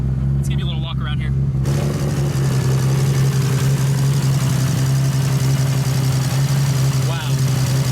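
A 1100 hp Nissan Skyline R34 GT-R with an RB26 engine idles loud and close in a steady, deep rumble throughout, with brief voices over it at the start and near the end.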